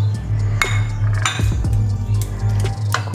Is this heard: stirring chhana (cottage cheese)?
yes